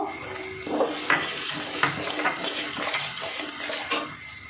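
A paste of ground peanuts, poppy seeds and green chillies is stirred into hot oil in a pan for a potol (pointed gourd) curry, giving a steady sizzle broken by several spoon scrapes and clinks against the metal.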